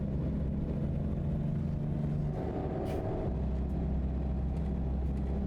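A heavy truck engine in the video game American Truck Simulator rumbles and revs steadily, its low drone shifting pitch partway through, with a brief hiss; no talking.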